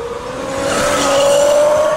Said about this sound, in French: Le sifflement du moteur se fait de plus en plus strident et couvre alors le chevrotement de la courroie